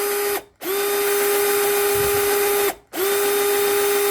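An imax IMCD-20GT cordless drill whirs at its low speed setting, a loud steady motor whine broken by two brief stops, each followed by a quick spin-up.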